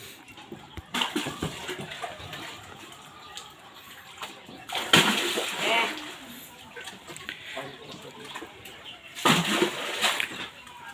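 Laundry water being splashed and sloshed by hand, with several bursts of splashing separated by quieter stretches and light background noise.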